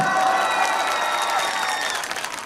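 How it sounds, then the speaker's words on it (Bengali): Audience at a village felicitation concert for a singer clapping together in sustained, dense applause, steady and loud across the whole stretch before easing slightly near the end, with some crowd noise mixed in. "এই মানুষটার জন্য জোরে একটা করতালি সবাই"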